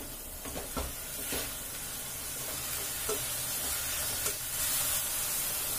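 Fenugreek leaves sizzle in a pan while cooking for menthya pulao, a steady soft frying hiss broken by a few light stirring taps and scrapes, with no talking.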